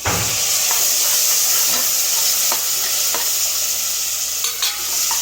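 Onions sauté in a pan with loud, steady sizzling and hiss, punctuated by repeated scraping strokes of stirring, close and uninterrupted by speech.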